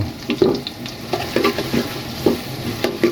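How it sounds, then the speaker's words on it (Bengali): Chopped onions sizzle with cumin seeds in a hot pan for a goat liver dish, a steady fry broken by repeated scraping stirs at an even pace, close and fairly loud. "পেঁয়াজটারে মোটামুটি ভালো করে ভুনবো তবে বাদামি হতে দেব না"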